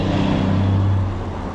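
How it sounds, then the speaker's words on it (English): Loud car traffic passes along a Paris street by Notre Dame, a close, heavy engine rumble that swells to a peak mid-pass and then eases off. "Geez, cars are loud."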